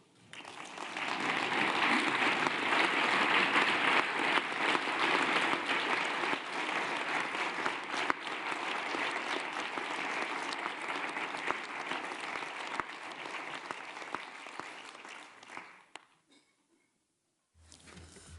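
Audience at the Council of Europe applauds after a speech by the German foreign minister, a loud sustained patter of many hands clapping for about fifteen seconds before fading out.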